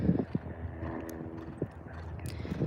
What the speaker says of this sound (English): So Incredible is now going to set off to breeze